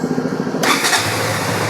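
A 2021 RC 125 motorcycle, a single-owner bike in good condition, cranks on its electric self-starter and catches about midway, settling into a steady, fairly loud idle with no talking.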